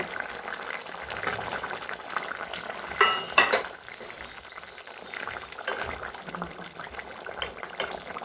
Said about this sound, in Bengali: এই ডিমগুলো দিয়ে দিচ্ছি এর মধ্যে